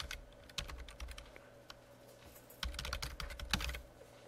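Someone types on a computer keyboard on Windows 10, a run of close, crisp key clicks in uneven bursts with short pauses between them.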